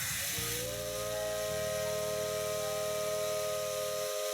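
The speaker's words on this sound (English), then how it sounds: "The steam whistle sounds out." A steam whistle on the 8620 steam locomotive in the Maitetsu game sounds in a long, steady, loud blast over the hissing rumble of the cab, settling into a sustained tone.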